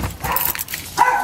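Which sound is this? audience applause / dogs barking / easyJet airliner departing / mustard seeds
dogs barking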